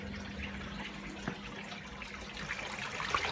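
Brown water gushing from a washing machine waste hose during a test wash on a Hotpoint WMA32, a steady watery rush with a small knock near the middle.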